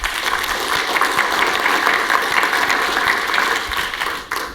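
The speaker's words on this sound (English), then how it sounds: "Please give Glenn a round of applause." An audience at a workplace conference applauds a speaker, a steady, full burst of clapping from a seated crowd that holds evenly for several seconds before tapering off at the end.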